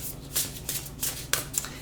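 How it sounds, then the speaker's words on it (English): Tarot or oracle cards shuffled by hand, several quick riffling bursts of crisp papery flutter spaced through a short stretch, close and moderately quiet with no talking. "I'm going to put the intent into this shuffle."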